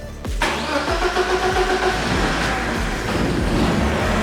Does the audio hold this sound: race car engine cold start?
yes